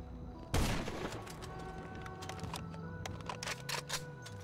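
Sniper rifle fire in GTA 5 Online, one loud sharp shot near the start followed by a lingering rumbling tail and fainter scattered game effects, no talk.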